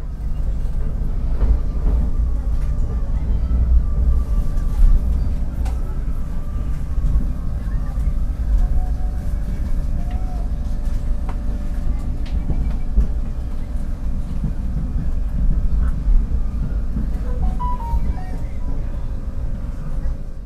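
The Argo Cheribon passenger train runs along Indonesian rails with a steady, loud low rumble and faint clicks and squeals throughout, heard from inside the carriage.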